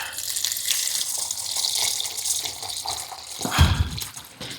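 Water runs steadily into a bucket for mixing tile mortar, a continuous splashing pour that shifts to a deeper gush near the end, close and alone.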